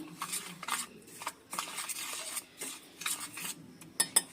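A spoon stirs salt into dry biscuit crumbs in a bowl, making soft, irregular scraping and clinking taps in short bursts with quiet pauses between them, close and faint.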